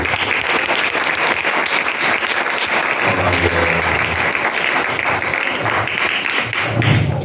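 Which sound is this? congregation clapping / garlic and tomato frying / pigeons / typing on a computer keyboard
congregation clapping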